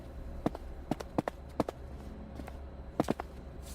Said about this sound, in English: drop the volume of the footsteps